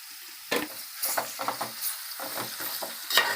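Drumstick pieces with ginger fry in a little oil, a faint sizzle under a few brief spatula scrapes and stirs, close by.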